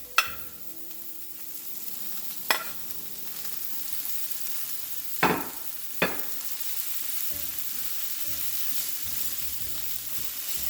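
Peppers frying on a stovetop sizzle steadily at moderate volume, broken by a few sharp clacks of a utensil against the pan.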